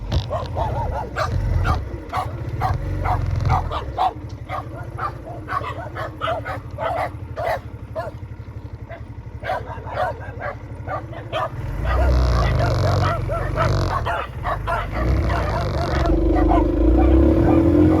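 A dog yips and barks in a quick, repeated run of sharp bursts, with whimpering mixed in, close by at a dead-end spot. Low traffic rumble runs underneath the whole time.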